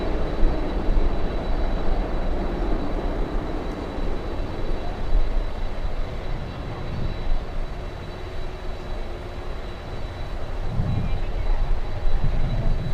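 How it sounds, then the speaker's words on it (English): A World Atlantic Airlines MD-80 jet arriving from Cuba at Miami International Airport during stormy weather gives a steady, broad engine roar that holds throughout, with low rumbling swells and no voices. "here comes the Mad Dog flying in from Cuba, World Atlantic Airlines"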